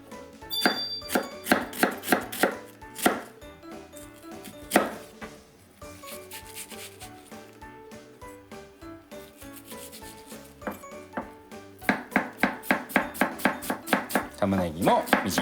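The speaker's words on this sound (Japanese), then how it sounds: "玉ねぎもみじん" A knife finely minces onion on a cutting board with rapid, rhythmic chopping taps in close bursts, pausing briefly before a fast final run.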